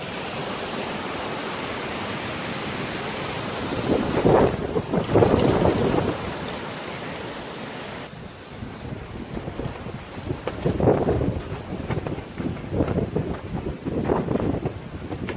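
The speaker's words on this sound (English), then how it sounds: "we're gonna give you a little quick shot of the wind if we can catch it" Strong wind roars outdoors at night, a constant broadband rush that swells into louder gusts now and then, with no voices over it.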